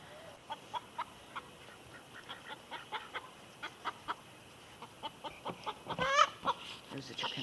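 A chicken clucks from beneath a truck on a small farm, giving a steady run of short, faint clucks roughly every half second against quiet outdoor background, with a slightly louder flurry of squawking near the end.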